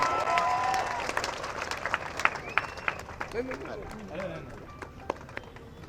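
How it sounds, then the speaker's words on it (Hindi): Crowd at an election rally in Dhaka claps and cheers in a dense, steady wash of applause that thins toward the end, with voices and shouts mixed into the noise. "जोरदार तालियां बजाइए।"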